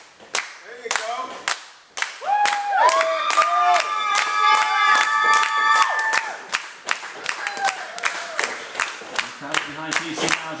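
Wrestling crowd at an IWF event claps and cheers for Casey, a dense mix of rhythmic clapping and shouts with a loud sustained whoop swelling in the middle, then breaking into scattered claps.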